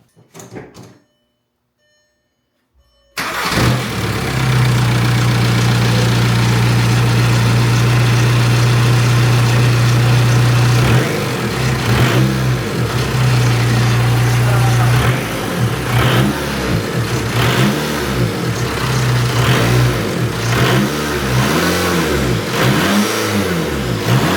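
A car engine idles with a steady low drone, then revs repeatedly in rising and falling sweeps after a brief quiet start, loud and close, with no talking.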